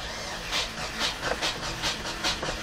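The carbureted engine of a GAZelle van cranks slowly on its starter. A rhythmic, labored chugging pulses about twice a second over a constant loud hiss.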